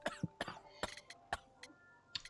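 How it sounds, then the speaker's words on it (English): A person in the video game Sherlock Holmes: The Devil's Daughter coughs several times in short, sharp bursts, fairly quiet, with faint ticking and a soft tone in the background. "You have a severe cough."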